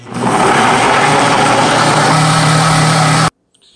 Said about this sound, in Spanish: Ahora debemos licuar bien a velocidad media.